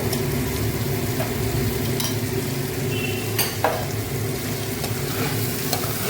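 Cauliflower curry being sautéed and stirred in a pan, a dense continuous sizzle with scattered scraping clicks from the spoon against the metal, close and fairly loud with no voices.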